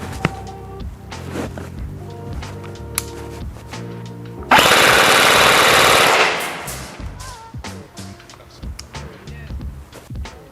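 A PTS ZEV Core Elite airsoft electric gun shooting 0.2 gram BBs at 330 FPS lets off one loud, rapid full-auto burst of about a second and a half, amid scattered handling clicks and taps.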